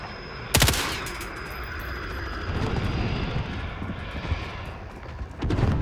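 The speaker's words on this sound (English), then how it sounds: "Allied chopper gunner arriving now." Chopper gunner helicopter arriving in Call of Duty Modern Warfare, a loud burst of gunfire, then a sustained engine and rotor roar that swells and fades beneath more shots near the end.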